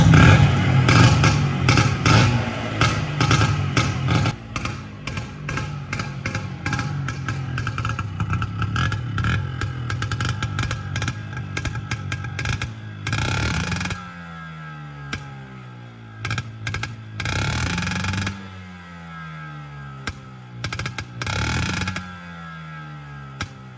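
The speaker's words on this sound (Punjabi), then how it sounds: "ਹੁਣ ਤੁਹਾਨੂੰ ਆਪਾਂ ਸਕੂਟਰ ਸਟਾਰਟ ਕਰਕੇ ਦਿਖਾਉਂਦੇ ਹਾਂ" A modified Bajaj Chetak scooter's small engine starts and runs, first a dense rattling idle, then uneven revving that rises and falls with gaps in between, loud and close.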